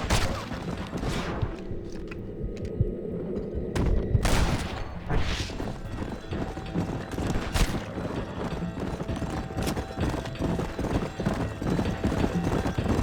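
Hooves of a galloping horse in Red Dead Redemption, a steady rapid clip-clop up close, joined partway through by bursts of gunfire and booms.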